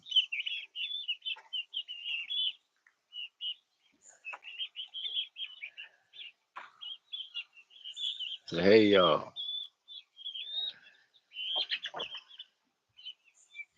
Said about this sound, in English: I love these birds.